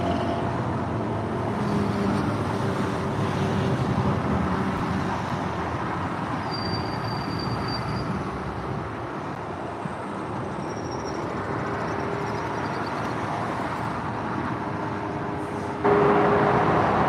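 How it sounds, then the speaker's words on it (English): Rush hour traffic on the San Diego 805 freeway gives a continuous broadband roar of passing cars and heavier vehicles, steady and fairly loud throughout, with a faint high tone drifting through the middle. "This is normal rush hour traffic out here on the San Diego 805 freeway."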